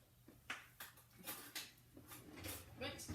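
Silverware being pulled from a kitchen drawer, a run of sharp metallic clinks and rattles with a sliding drawer sound, close by, with a voice speaking over part of it.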